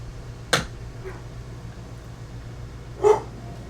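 A dog gives two sharp, separate barks about two and a half seconds apart, sounding fairly close over quiet background hum.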